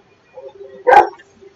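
A dog in the Blair Witch game lets out one short, sharp bark, close and loud, after a few faint quieter sounds.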